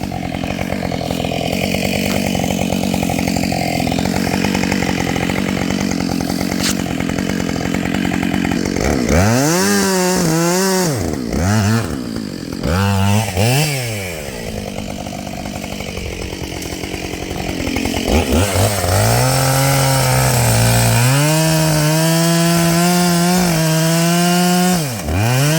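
Husqvarna 565 chainsaw cutting wood, loud and close: a rough idle and revving engine, then repeated rising-and-falling bursts as the chain bites through the log, ending in a sustained high-revving cut.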